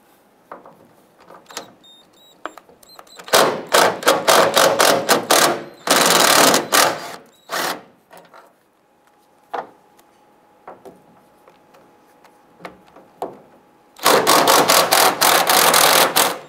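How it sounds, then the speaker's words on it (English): A power driver with a T45 Torx bit loosens and removes the tailgate hinge bolts on a 2002-2008 Dodge Ram 1500, giving bursts of rapid ratcheting whirr that start and stop several times between quieter ticks and clicks, close up. "Using our T45 Torx bit, we're going to go ahead and loosen and remove this bolt and this bolt here."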